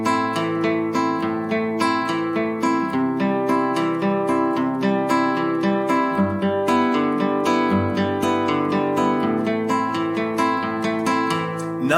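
Acoustic guitar plays a steady fingerpicked pattern without the thumb's bass notes brought out, so bass and treble strings ring at an even level. The arpeggios run continuously and close up, with no talking.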